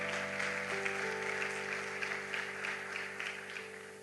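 A congregation claps at a church service, a moderate, somewhat distant patter of applause rising and easing over a steady sustained organ or keyboard tone, gradually fading toward the end.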